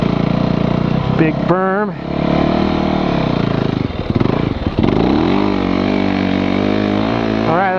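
A dirt motorcycle engine roaring and revving close by on a snowy county road, rising and falling in pitch through gear changes, with someone speaking briefly over it.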